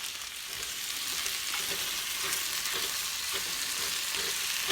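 Seasoned potatoes sizzle and crackle steadily in a hot skillet while being stirred, a close, continuous frying hiss with faint scraping, no voices.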